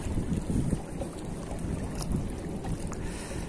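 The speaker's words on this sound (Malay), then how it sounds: "Ayo berhenti dong angin." Wind gusts across a fishing spot where mullet are fished with a pole rod, heard as low rumbling buffets against the microphone that swell and ease unevenly over a few seconds.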